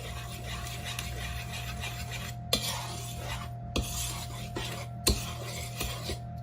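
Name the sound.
stirring flour, salt, baking soda, baking powder and sugars in bowl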